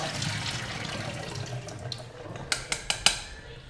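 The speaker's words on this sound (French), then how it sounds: "juste on vide l'eau" Soaking water is poured off overnight-soaked almonds, a close steady splashing trickle followed by a few sharp clinks of the container near the end.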